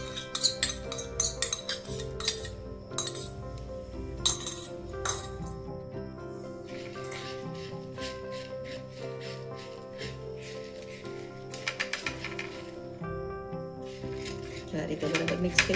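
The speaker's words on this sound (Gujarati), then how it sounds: "હવે આને આપણે મેથીમાં ભેળવી દઈશું." Spices being stirred into fenugreek seeds for a mukhwas mix make light, close clinks and dry rattling in quick bursts, with stretches of quieter rustling between them.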